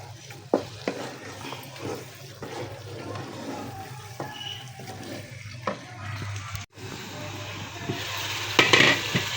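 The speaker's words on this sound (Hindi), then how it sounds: "तो 3 से 4 मिनट अच्छी तरह से अपने कीमे को भूनेंगे" Minced meat (keema) fries in masala in a pan without tomatoes, a low sizzle under repeated scraping and stirring knocks, with louder clatter toward the end and no speech.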